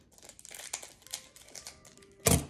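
Scissors cut open a Pokémon trading card package with scattered crinkles and snips of plastic wrap, followed by a sharp loud crunch near the end.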